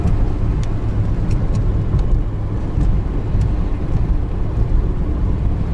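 A VAZ 2106 engine roars loud and close under acceleration, a dense, rough drone with a few sharp clicks or knocks on top; no talk.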